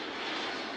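Airplane taking off in the airport-control video game Mini Airways, heard as a steady, loud broadband engine roar that holds evenly through a brief moment, with no talk over it.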